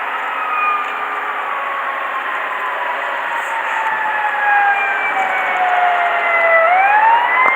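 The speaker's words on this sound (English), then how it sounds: "It's like a fire truck or something." A wailing Clearfield Fire Department fire truck siren sweeps up and down continuously, loud and steady, as it passes nearby with no voices.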